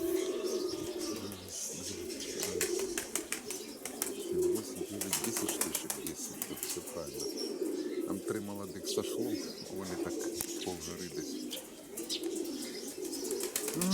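Domestic pigeons coo repeatedly while descending with bursts of wing flapping and light chirps, a busy, fairly close flock after three months kept from flying.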